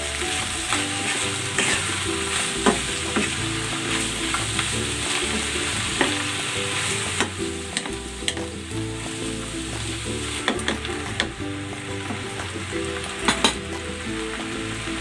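Beef and mixed vegetables stir-frying with oyster sauce in a hot pan, giving a loud, steady sizzle with light stirring clatter throughout and no talking.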